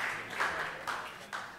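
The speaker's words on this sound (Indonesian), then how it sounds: "Kasih tepuk tangan untuk youth" A church congregation at a sermon session gives the youth group a brief, faint round of applause, a soft patter of clapping that swells in small bursts over about a second and a half.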